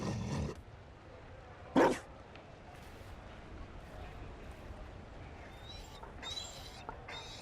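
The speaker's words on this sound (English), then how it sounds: "You found a dog." A Mabari war dog in the video game Dragon Age gives one short, sharp bark partway through, with quiet game ambience around it and a few faint higher noises later.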